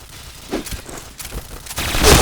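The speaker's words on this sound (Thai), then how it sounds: "เห็นเสียงยิงมาจากข้างหลัง" Gunfire from behind the player in the shooting game Point Blank, a few scattered sharp shots and bursts of moderate loudness over game background noise.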